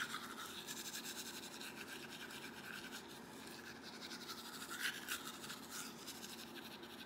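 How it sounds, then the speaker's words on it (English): A toothbrush loaded with activated charcoal scrubs teeth in close, quiet, continuous scratchy strokes with a steady brushing rhythm. "Done brushing my teeth."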